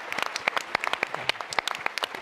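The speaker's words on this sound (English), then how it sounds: "one more round of applause for StrattyX" Applause fills a large conference hall at a tech startup competition, with a crowd's scattered, sharp claps crackling continuously at moderate loudness for a couple of seconds.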